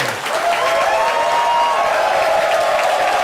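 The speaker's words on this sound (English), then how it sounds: "All right, show of applause." Steady, dense applause with some cheering from a live audience fills the whole stretch, loud and close, with a faint voice briefly audible.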